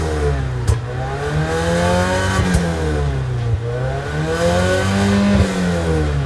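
Wuling Cortez with a racing-look modification revving repeatedly, its engine rising and falling in smooth sweeps close by, with sharp exhaust pops punctuating each rev.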